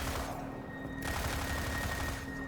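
Rapid automatic gunfire from a weapon in Destiny 2, a sustained burst of shots close up and loud, with a steady tonal hum running beneath the firing and a slight surge partway through.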